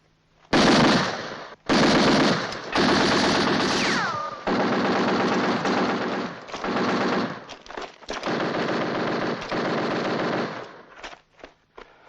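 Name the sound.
machine gun firing bursts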